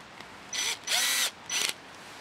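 Power drill driving small hinge screws into a Keter plastic storage shed, three short whirring bursts, the middle one longest, close and fairly quiet with pauses between.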